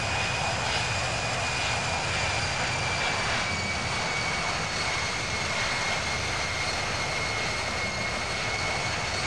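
Airliner engines roar steadily through a climb in Infinite Flight, a loud, unbroken jet drone with a thin high whine running through it and no voices.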